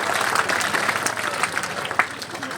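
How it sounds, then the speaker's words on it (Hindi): An audience at a public gathering in Barmer district gives dense, sustained applause, many hands clapping together at a steady, loud level without a break. "जोरदार तालियां बजाएं"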